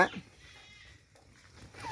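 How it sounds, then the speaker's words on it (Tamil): Goats coming back from grazing on a goat farm, with a few bleats near the start and end over a quiet background. "இப்போ மேய்ஞ்சிட்டு வருதுங்கெல்லாம் ஆடுங்க"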